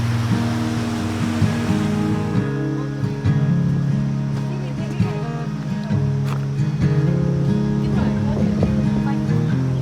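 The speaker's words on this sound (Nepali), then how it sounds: "यहाँ अगाडि चाहिँ टक्क मेलम्ची नदी बगिरहेको छ" The Melamchi river in Sindhupalchowk, Nepal, rushes nearby in a steady, loud wash of water noise, with a low droning hum running underneath throughout.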